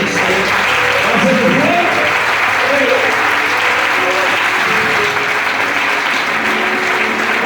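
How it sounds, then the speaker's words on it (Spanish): A church congregation applauding loudly and continuously, dense clapping filling the room with voices and cheers mixed in underneath. "¿Cuántos le dan un aplauso a Jesús?"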